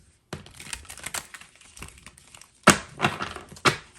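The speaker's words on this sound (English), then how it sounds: "These are very hard to shuffle, but they're great cards." A deck of hard-to-shuffle cards riffles and snaps in short crackling bursts, quiet at first and then several sharper flutters close by.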